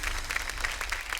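Audience applause at a Marathi women's television show celebration, a steady burst of many hands clapping together, fairly loud and continuous with no voices over it.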